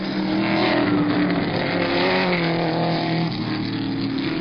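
Porsche 917 race cars at the 1970 Sebring 12 Hours, Kurt Ahrens a car length behind the sister car, roar past as a steady, loud engine drone with shifting pitch throughout, no voices.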